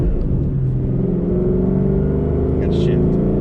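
A Ford Mustang GT's engine drones and rumbles steadily from inside the cabin, a low constant growl while the driver shifts gears, with no voices heard.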